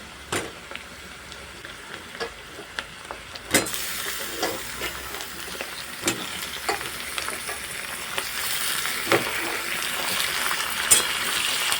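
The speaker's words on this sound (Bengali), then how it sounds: "এখন আমি এর মধ্যে দিয়ে দেব চিকেনের পিসগুলো" Chicken pieces fry with onions in a pan, a constant loud sizzle that swells as the meat goes in, with intermittent clatter and scrapes from the spoon, close and without speech.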